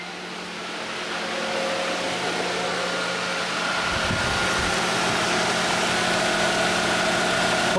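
Radiator cooling fans on a Honda Element running after a repair, a loud steady whooshing drone that builds over the first couple of seconds and holds, with a faint low engine idle beneath.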